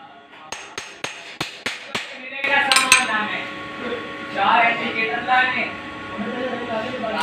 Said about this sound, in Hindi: हल्के हाथ से इसको पंच करेंगे, दोबारा कैम बिठाएंगे